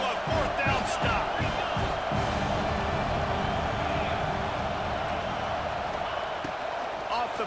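A loud, steady stadium crowd roars in EA Sports College Football 26 during a fourth-down stand. The dense wall of noise stays constant throughout, with thumping impacts underneath.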